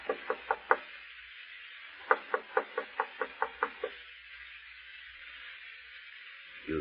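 Knuckles rap on a door in two bursts, first four quick knocks and then, after a pause, a longer run of about eight evenly spaced knocks, close and clear in a quiet room.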